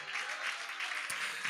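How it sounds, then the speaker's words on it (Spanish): A church congregation claps in praise during a sermon, a dense burst of applause from many hands held steadily for the whole moment. "Vamos, dale palmas de alabanza al Señor"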